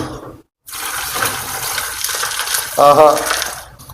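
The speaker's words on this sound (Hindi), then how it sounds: "इसमें हम डालेंगे दूध।" Milk is poured into a pot already holding ice for a summer sharbat, giving a steady close liquid splash with a brief clinking, gurgling rise near the end.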